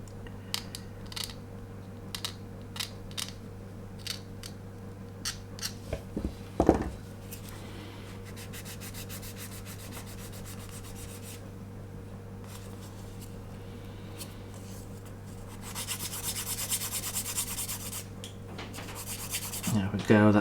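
A Zukimura seam scraper drags in short, quiet strokes along the parts of a 1/24 MPC General Lee model kit, followed by a longer stretch of faint rubbing and scraping over a low background hum.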